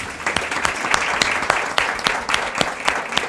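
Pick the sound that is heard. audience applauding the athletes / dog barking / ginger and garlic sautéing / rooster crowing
audience applauding the athletes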